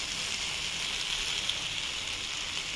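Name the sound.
spices with turmeric sautéing in a pan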